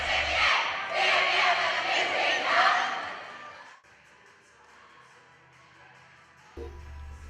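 Students cheer for cheerleaders at a college cheer competition between UCO and OU squads, a loud crowd roar for about four seconds that then drops away to quieter murmuring.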